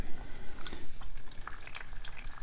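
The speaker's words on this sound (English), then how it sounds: "the water comes through there, trickles down here, and covers the car" Cold water trickles and drips through a Hot Wheels toy car wash onto a small car, making a continuous close-up splashing, fizzing sound with scattered droplet ticks and no talking.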